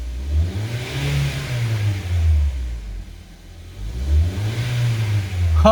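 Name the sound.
car engine started and accelerator pressed, revving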